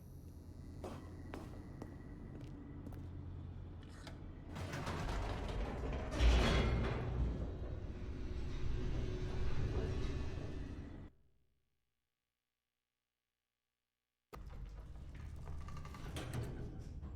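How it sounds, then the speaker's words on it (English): An elevator in The Stanley Parable video game descends with mechanical creaks and grinding gear rattles, rising louder midway, then cutting to silence before the machinery noise resumes. "Alright, let's go down that elevator."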